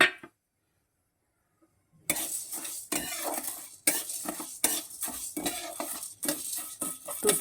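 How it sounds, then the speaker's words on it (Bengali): Three kinds of dal dry-frying in a hot pan, with a utensil stirring and scraping in repeated strokes and a soft sizzle, close and fairly loud after two seconds of silence. "সেখানে আমি সব তিন রকমের ডাল একটু ভেজে নেব"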